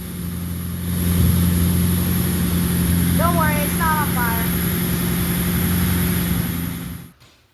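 A 1996 Ford Mustang GT convertible's rebuilt 4.6 2V V8 with automatic transmission runs steadily at idle, a close, even low drone. A few brief squeaky chirps sound over it partway through, and the engine cuts off at the end.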